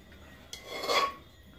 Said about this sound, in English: I will scrape this and all